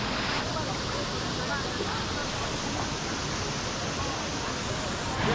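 Waterfall at Cachoeira do Tobogã in Paraty, Brazil, pouring down a rock slide, giving a steady, dense roar of rushing water that holds at the same level throughout.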